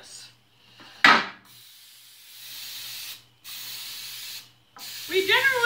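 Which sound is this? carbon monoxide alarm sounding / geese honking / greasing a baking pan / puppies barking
greasing a baking pan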